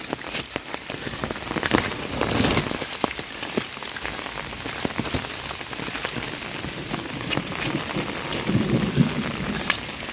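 Steady rain pours onto surfaces outdoors during a thunderstorm while cattle are herded, with a dense patter of drops broken by rolling thunder rumbles, and no one talking.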